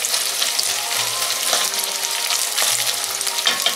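Browning chili meat crackles loudly in a hot pot as it is broken up, a dense close sizzle with intermittent scraping and stirring strokes and no voices.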